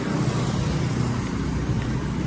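Cars passing close by on a roadside, a steady loud rumble of traffic and tyre noise with no pauses and no talk over it.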